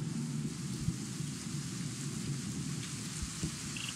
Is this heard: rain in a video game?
yes